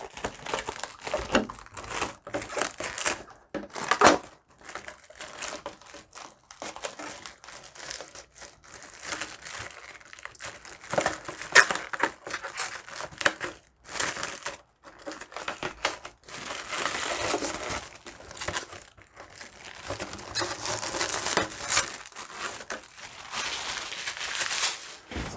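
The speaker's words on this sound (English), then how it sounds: "So there goes our easy peel wrap" Protective easy-peel wrap crinkles and tears as it is pulled away from a freshly painted RC car body, a dense run of close crackling and crumpling bursts with brief pauses, and no talking.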